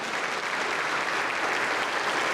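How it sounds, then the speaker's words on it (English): Dense, steady applause from a church audience that fills the whole stretch at an even, moderate level with no voices on top. "You're clapping for yourself."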